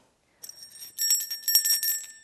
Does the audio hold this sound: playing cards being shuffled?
no